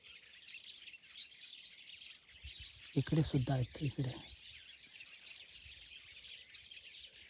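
Birds call and squabble at Kothaligad fort in summer, a dense, steady chorus of high chirps that runs throughout, with someone speaking briefly partway through.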